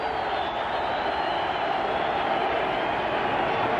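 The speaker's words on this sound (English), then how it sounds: "Crowd starts up." Dense, continuous roar of a football stadium crowd at a Seattle Seahawks game, loud and sustained, building gradually over a few seconds with no gaps.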